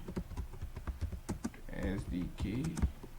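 Typing on a computer keyboard, quick irregular clicks of keys close by, with a person talking over the latter half.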